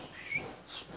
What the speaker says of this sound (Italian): sentite il fischietto